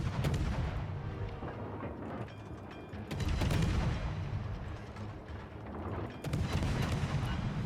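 Naval guns fire in bursts aboard the ship Grozovoi in a video game: heavy booming salvos land around three-second intervals, each loud blast rolling into rumbling decay and overlapping artillery thunder.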